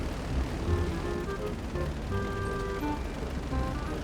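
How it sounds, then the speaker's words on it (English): A damaged airplane in GTA Online flies on with its right engine gone and only the left one still running, a steady, fairly quiet droning hum with a faint wavering tone throughout. "This plane sounds like it's like dying, but it's the left engine is still going"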